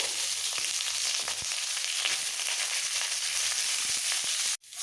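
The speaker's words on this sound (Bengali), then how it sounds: "কুমড়ো আর সিমটা দিয়ে দেবো মটরশুঁটি পালং শাক আর টমেটো বাকি সমস্ত সবজি এইভাবে ভেজে নিতে হবে" Pumpkin, beans, peas, spinach and tomato frying in a pan for khichuri give a steady, dense sizzle close by that holds evenly, then briefly cuts off near the end.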